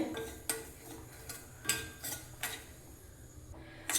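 Rava (semolina) roasting in a pan over a low flame, a spoon scraping and tapping against the metal pan in irregular strokes, each light clink standing out over a faint, quiet background.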